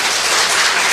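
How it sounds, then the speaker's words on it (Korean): Church congregation applauding, a brief dense wash of many hands clapping at once, loud and even throughout. "박수 한번 보내주세요."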